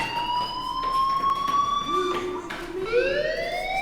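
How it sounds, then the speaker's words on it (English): A fire alarm sounds in the video game Life is Strange. The electronic tone holds steady, then sweeps up and down in a repeating pattern, with short bursts of noise over it and faint background sound. "do you hear that fire alarm?"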